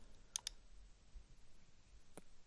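A couple of sharp computer mouse clicks in quick succession open the quiet stretch, followed later by one more faint click against a near-silent room background.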